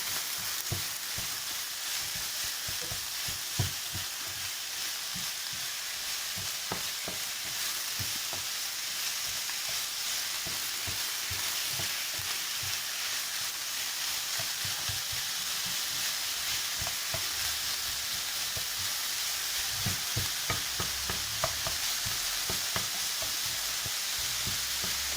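Minced meat filling for stuffed msemen sizzles steadily in a pan while it is stirred, giving a continuous close frying hiss with scattered scraping clicks from the utensil and no talking.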